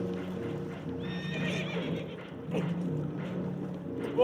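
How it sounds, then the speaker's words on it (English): Spooked horses on a boat in Red Dead Redemption 2 neigh and whinny under a steady rumble of water and wind, with a final loud, close whinny at the end. "Horses are spooked, and we're taking on water."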